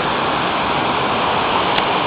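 A waterfall in Mirusha Canyon roars steadily and loudly, a dense unbroken rush of falling water close by with no other sounds.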